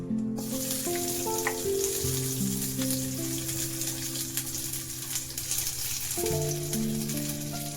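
Coriander, cumin and onion roast in oil in a pan, with a soft continuous sizzle under melodic background music and no talking.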